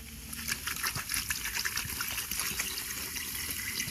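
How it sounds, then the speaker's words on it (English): Liquid poured in one go over quartz rocks in a container, a steady close trickle with a fizzing, sizzling hiss throughout. "I'm going to go ahead and pour the whole bottle in all at once."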